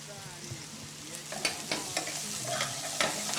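Onions and olives fry in a pan with rosemary, a soft steady sizzle beneath several scraping stirs of a spoon, fairly quiet and close.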